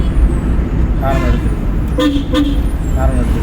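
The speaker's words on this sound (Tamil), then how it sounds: "ஹாரன்" Short car horn toots sound a few times amid road traffic noise, with voices talking underneath.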